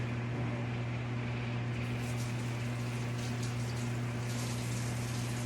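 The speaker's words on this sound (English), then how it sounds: "Let me go wash my hands real quick." Tap water runs steadily into a sink during hand washing, a continuous rushing gush under a low electrical hum, with faint splashing changes partway through.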